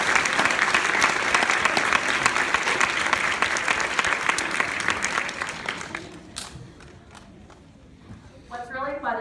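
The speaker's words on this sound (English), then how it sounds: "They deserve another round of applause" A school audience claps loudly and steadily for a sixth grade middle school band, then the applause fades and thins out, with a voice speaking over the later moments.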